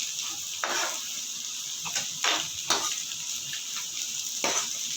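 Vegetables sauté in a pan for prawn fried rice, a steady close sizzle broken by several scraping stirs of a spatula against the pan, with no talking.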